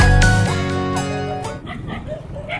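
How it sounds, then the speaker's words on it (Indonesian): Several dogs bark and yip in the distance in a rural village, overlapping over a steady motorcycle engine drone with a brief tonal whine at the start. "Anjing-anjing pada menggonggong semua."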